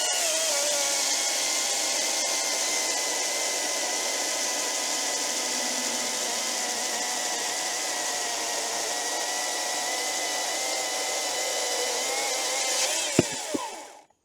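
An EGO battery chainsaw runs at its highest chain speed, cutting through wood with a loud steady high whine held for about thirteen seconds before winding down and stopping.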